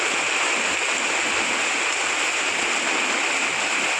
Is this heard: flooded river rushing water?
yes